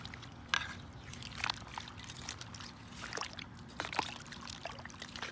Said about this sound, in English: And just pour on my plants.